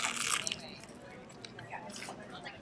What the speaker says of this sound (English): I don't know if you hear that crunch